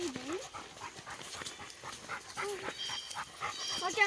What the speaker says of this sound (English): And I hear the dog heavy breathing.